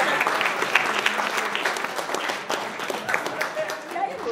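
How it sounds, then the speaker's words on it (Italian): An audience applauds at a talk event, with a steady wash of clapping hands through the whole stretch, moderately loud, with some voices underneath. "Un applauso."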